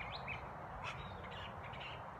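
A bird calls outdoors behind a house, with a few faint, high chirps over a steady background hiss.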